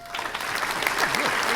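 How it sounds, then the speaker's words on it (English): Canned applause from a button fires during a live podcast show, a dense wash of clapping that holds steady and loud for its whole short length, with a voice murmuring underneath. "Hey, I've got an applause button."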